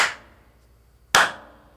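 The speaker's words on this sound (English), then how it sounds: "I'll clap, hopefully not break the microphone" Two sharp hand claps in a drum recording room, about a second apart, each followed by a short, calm decay of room reverberation against near silence.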